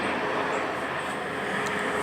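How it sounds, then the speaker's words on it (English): A medical helicopter flying overhead, a steady loud broadband rotor and engine roar that holds evenly through the whole stretch without fading. "medical chopper"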